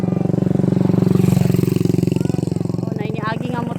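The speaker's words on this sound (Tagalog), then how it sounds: "Nainiagi nga motor. Saba man." A motorcycle passes along a farm road, its engine a loud, steady low drone that holds close throughout while people talk over it.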